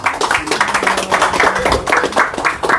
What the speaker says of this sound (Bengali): এই নতুন শোরুম উদ্বোধন উপলক্ষে একটা হাততালি হবে